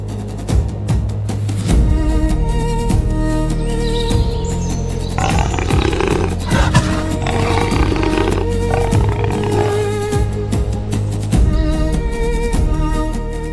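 A lioness hunting a young zebra lets out loud, close, rumbling roars in repeated bursts, with other wild animal calls and scuffling sounds around them.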